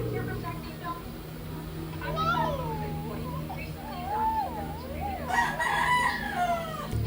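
A neighbour's rooster crows several drawn-out, wavering calls at moderate distance, partly under a person talking nearby.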